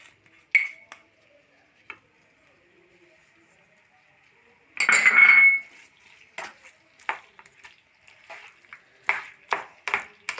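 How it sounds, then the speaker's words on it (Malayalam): A spoon stirs chicken curry in a pot, giving scattered scraping clinks and a short burst of louder scraping and sizzling, with quiet gaps between strokes and no talking. "നന്നായിട്ട് നമ്മൾ ചിക്കൻ മിക്സാക്കി കൊടുക്കാം"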